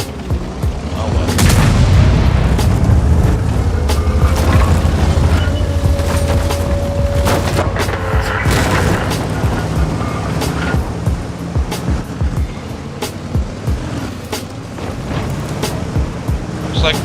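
Tank cannon shots and explosions in the World of Tanks video game: repeated heavy booms and sharp blasts over a constant rumbling battle din, with a voice commenting now and then.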